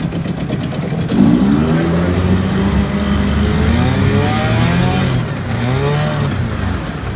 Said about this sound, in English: I'm going to turn it off and show you how easily it restarts.